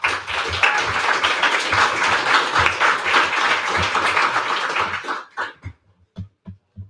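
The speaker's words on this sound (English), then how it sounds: "Give a big applause," Audience applause at a tech talk on renewable energy and AI, loud and dense for about five seconds, then thinning out into a few scattered, separate claps.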